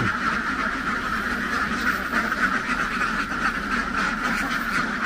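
A pen full of ducks quacks steadily through the night on a free-range egg duck farm in the Mekong Delta, a dense, continuous chorus of overlapping calls close by with no talking.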